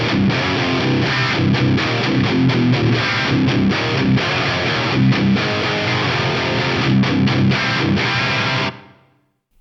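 Heavily distorted electric guitar chords through a TC Electronic G Major 2 room reverb with 1.2-second decay play in a driving rhythm, loud and continuous, then cut off and ring out briefly.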